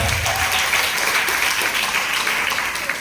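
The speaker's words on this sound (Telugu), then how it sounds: "చప్పట్లు కొట్టాలి గట్టిగా." An audience at a Good Friday church gathering claps loudly and continuously, a dense close wash of applause throughout.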